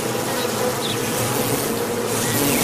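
Bees swarm at a hive, with guard bees attacking an intruder, a loud dense buzzing drone that fills the space without a break, close and unbroken.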